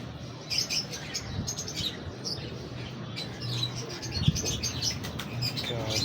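Breeder pigeons flutter and flap their wings close by, with soft cooing and chirps mixed into a busy, moderate background.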